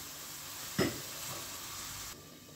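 Onions fry in a pan as the base of a tomato sauce, giving a steady close sizzle with one sharper burst of crackle early on before the hiss settles and softens.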